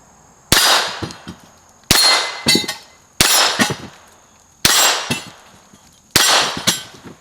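A Ruger .22 pistol fires CCI Quiet subsonic rounds at steel targets: five quiet shots spaced about 1.3 seconds apart, each followed at once by a sharp ringing clang of the hit plate, loud and close.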